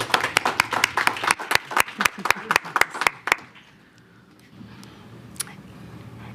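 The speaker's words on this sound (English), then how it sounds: "And you received the applause because you deserve it." Applause at a school board meeting, a small group clapping in a brisk burst of distinct claps that stops abruptly, followed by quiet room tone and faint movement.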